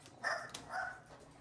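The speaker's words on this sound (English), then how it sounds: "Let me go see what it is they're barking at." Dogs bark indoors at home during cooking, two fairly quiet barks about half a second apart, with no talk.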